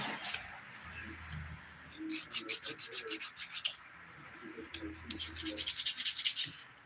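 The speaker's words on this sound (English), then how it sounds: "I am going to use the 180 grit side to smooth this nail because of that little bump." A 180 grit nail file rasps across a fingernail up close in quick back-and-forth strokes, the rhythmic bursts coming in several runs with brief pauses between them.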